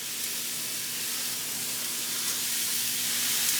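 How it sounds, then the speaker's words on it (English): Jimmy Dean sausage fries in a pan with a steady, close, broadband sizzle and hiss that holds evenly for a few seconds, with no talking. "Here comes the Jimmy Dean sausage. Now we're gonna cook this sausage."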